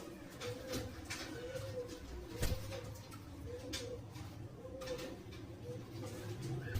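Many Saharanpuri pigeons cooing together in a steady, overlapping murmur, with soft low coos repeating continuously and a faint background bustle.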